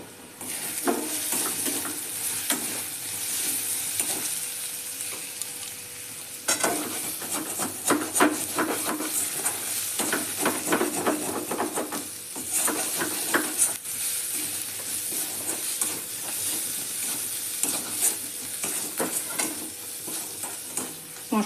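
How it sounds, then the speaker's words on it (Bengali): Spices with turmeric and cumin powder frying in a pan, a continuous bright sizzle broken by bursts of stirring and scraping from a utensil, close and fairly loud, with no talking. "মশলাটা ভাজা হয়ে গেছে"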